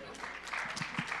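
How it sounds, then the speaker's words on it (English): Audience applause at a Mr. & Miss Hospitality 2019 pageant, a short burst of clapping beneath a talking voice. "Let's have another round of applause for contestant number 1."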